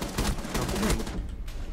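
Gunfire in the video game Rainbow Six Siege: a rapid burst of automatic shots, dense and loud, then tapering off as the firing stops.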